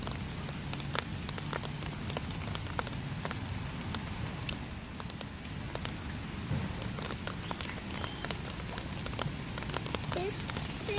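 Steady rain falls outdoors where a turtle and fish are being fed, making a continuous soft hiss with scattered sharp drop ticks throughout, and faint voices in the background.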